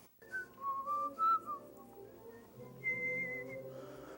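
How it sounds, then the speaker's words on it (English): A man whistles a meandering tune while painting, clear melodic notes rising and falling at close range, alone in a quiet room with brief pauses between phrases. "As he whistles while he works"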